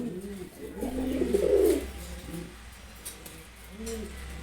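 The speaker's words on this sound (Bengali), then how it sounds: "গিয়াচল্লি নর কবুতর" Male Giya Chulli pigeon cooing nearby, a few rounded low coos with a louder burst in the middle and softer ones trailing off, no talk.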